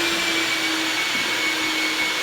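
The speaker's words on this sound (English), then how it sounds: "we're using the shop vac to get all the dust and everything off the subfloor" A shop vac vacuums dust off a subfloor during a bonus-room renovation, giving a steady, loud, unbroken motor whine and rushing airflow that hold level throughout with no speech.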